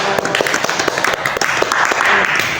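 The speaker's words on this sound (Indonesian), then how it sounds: "Tepuk tangan buat Mbak Ica" Group applause in a counseling session room, a fairly close patter of several people clapping with sharp individual claps standing out, voices faintly mixed in.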